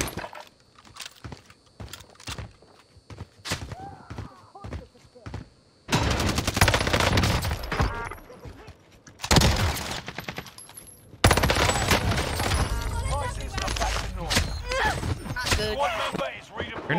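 Gunfire in the Warzone Rebirth Island video game: sharp single shots and rapid bursts, then dense, loud sustained fire with heavy blasts, while players talk over it.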